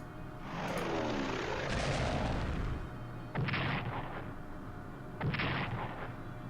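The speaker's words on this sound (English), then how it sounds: "Let's bomb them." Bombing attack in the strategy game Strategic Command: World at War, heavy rumbling blasts and a sweeping aircraft roar, followed by two further sharp booming impacts, loud and close with no talk.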